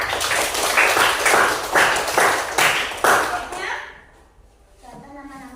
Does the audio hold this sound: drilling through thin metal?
no